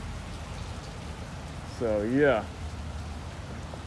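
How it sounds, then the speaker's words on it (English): Pouring rain falls steadily outdoors on a wet day of yard work at a church property, a constant close hiss throughout, with a person briefly speaking over it midway. "it's pouring rain again."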